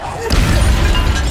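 The Expelliarmus spell cast in the Hogwarts Legacy video game, a loud booming magical burst with a crackling rumble that swells and holds, heard alongside a speaking voice.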